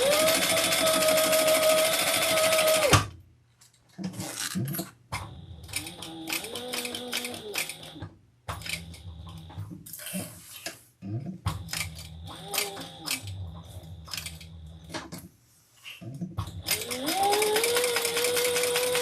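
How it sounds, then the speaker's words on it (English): Sewing machine stitching around the inside diameter of a crossbody bag, running in short mechanical bursts separated by brief pauses, with a louder whir at the start and end. "Now we're going to go sew around that inside diameter, and I will pull my threads to the back."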